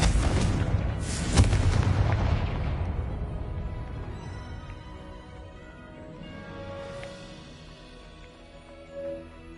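A Confringo fire spell explodes in the Hogwarts Legacy video game, giving a loud booming blast near the start that trails off into a long, rumbling decay, with faint lingering game ambience after.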